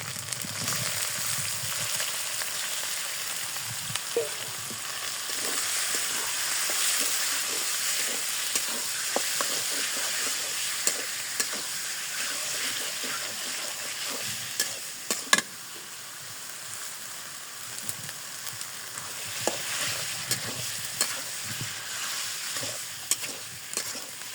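Meat stir-fried in a pot, a continuous hot sizzle with intermittent scraping and knocking of a spatula against the pot, close and steady without any talk.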